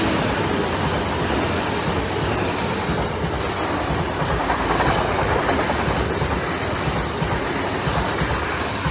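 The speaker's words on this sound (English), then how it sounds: "Orient Express, the 11:52 from London King's Cross to Edinburgh Waverley." An Orient Express train running from London King's Cross toward Edinburgh Waverley on a diversion via Lincoln, a loud close rumble of passing carriages with rail noise and a brief high wheel squeal early on.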